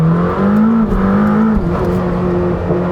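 A Lamborghini's hybrid 4-litre V8 with a race-spec flat-plane crank, spinning to 10,000 RPM, revs loudly and close up, its pitch climbing and dipping in a couple of throttle blips before settling into a steady high drone.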